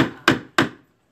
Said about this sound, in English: you have to get the old spline out and just really literally chisel it out a little bit at a time